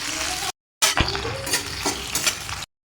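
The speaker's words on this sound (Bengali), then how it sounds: "দিয়ে দেবো কেটে রাখা পেঁয়াজ, এরপরে দিয়ে দেবো কেটে রাখা ক্যাপসিকাম। খুব ভালো করে নাড়িয়ে চাড়িয়ে নেব।" Chopped onion and capsicum stir-fried in refined oil in a pan, an up-close sizzle broken by a brief silence, with spatula scrapes and clinks against the metal as the pieces are tossed.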